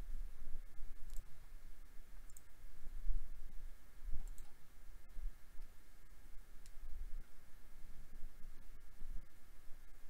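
Faint, sparse clicks of a computer keyboard's keys tap at irregular intervals over a quiet background hum.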